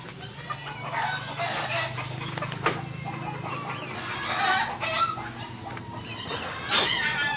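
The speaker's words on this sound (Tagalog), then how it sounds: "Lalabas yung mga manok." Chickens cluck and a rooster crows against a busy farmyard background, with scattered calls throughout.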